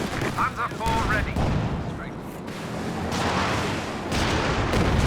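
Tulip rocket artillery fire in the real-time strategy game Company of Heroes 2, a dense rumbling barrage of launches and impacts mixed with other battle gunfire, with a voice talking over it.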